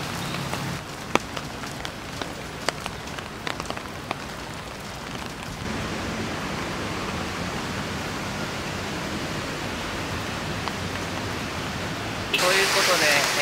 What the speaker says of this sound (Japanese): それにしてもすごい雨ですね。